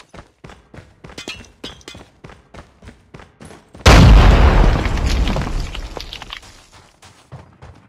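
A grenade blast in Call of Duty multiplayer, one loud deep boom with a long rumbling tail that fades over several seconds, after a run of quick game footsteps that resume once the blast dies down.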